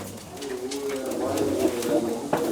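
Domestic pigeons kept in a loft coo softly, making low rolling calls that continue throughout while someone talks nearby.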